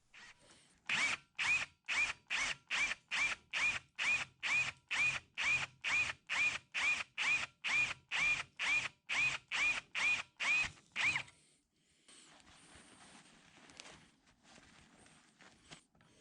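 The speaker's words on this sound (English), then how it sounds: "The main reason for drilling these out is because of how filthy they are going to still be on the inside." A drill bores out plugs in the oil passages of a K&T milling machine saddle, the motor whining in about twenty evenly spaced short bursts, then a softer, rougher stretch of cutting noise near the end.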